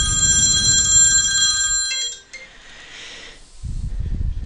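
Telephone bell ringing steadily and loudly during a chemistry lecture, a bright sustained ring lasting about two seconds before cutting off, with low room rumble before and after.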